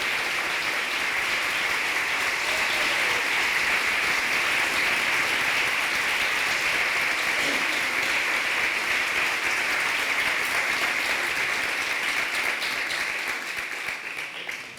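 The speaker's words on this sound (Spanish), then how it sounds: "para quien pido un fuerte aplauso" Audience applause fills a book presentation hall, a steady dense clapping from a crowd that holds evenly throughout before easing off slightly at the very end, with no voices over it.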